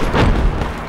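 A grenade detonates in the military game Project Reality, giving a loud, muffled boom with a rumbling low-end thud that fills the short moment and fades slightly at the end.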